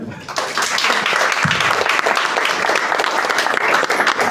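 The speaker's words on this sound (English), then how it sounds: "Give him a round of applause." An audience breaks into loud, sustained applause after a stand-up comedy routine, a dense continuous wash of clapping that holds evenly from start to finish.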